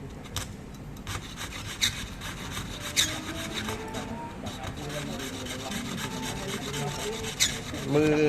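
Mother-of-pearl shell being rubbed by hand in preparation for fretwork, a steady close scraping and rasping that runs throughout with light irregular strokes and a few sharper ticks, heard alone without talk.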